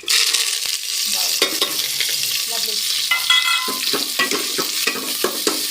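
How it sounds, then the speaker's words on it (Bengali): Chopped spices hit hot oil in a wobbly wok and fry with a loud, bright sizzle, broken by a series of scraping, clattering stirs up close, with no talking. "রান্নার জন্য আমি তেল দিয়ে দিয়েছি গায়ে এখন দিব যেগুলো মশলাগুলো কেটে রেখেছিলাম ওইগুলো"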